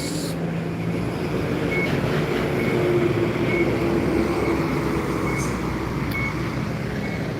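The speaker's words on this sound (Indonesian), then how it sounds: "truk melintas." An LPG truck rolls past in front of Palembang bus terminal at kilometer 12, South Sumatra, a close, steady engine rumble blended with continuous roadway traffic noise and no talking.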